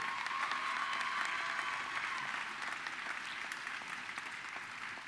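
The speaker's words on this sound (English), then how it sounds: "Give him applause, because the guys worked hard." Audience applause at a high school graduation ceremony, a steady wash of many hands clapping that stays fairly even and distant-sounding throughout, tapering slightly toward the end.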